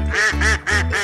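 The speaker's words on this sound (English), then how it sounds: "duck" Four loud, nasal duck quacks from a farm-animal toy in a steady rhythm, close up and unaccompanied.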